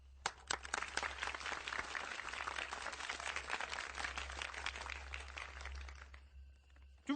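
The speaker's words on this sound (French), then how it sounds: "Moi, on m'applaudit." Sustained applause from an audience for a speaker, dense even clapping lasting about six seconds before stopping abruptly, at moderate distance.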